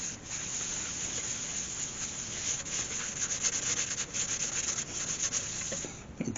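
Hand buffing wax onto the natural edge of a yew wood bowl, a steady close rubbing swish running continuously with slight surges in intensity, no voices.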